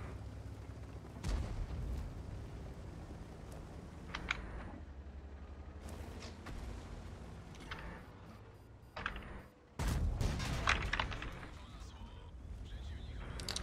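Artillery shell impacts in a tank battle video game, played in a 50TP tank: several sharp booms land across the stretch, the loudest near the end, over a steady bed of game noise and engine hum.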